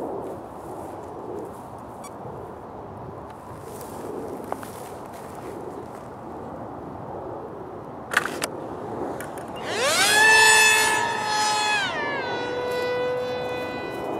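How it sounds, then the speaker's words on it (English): A Castle electric motor on a Striker RC model fitted with an 8x8 propeller spools up outdoors on a windy day, rising into a loud, bright whine that then drops and holds at a steady lower pitch, heard after a stretch of wind noise and a brief clatter. "this is the Striker on the Castle motor with the 8x8 prop."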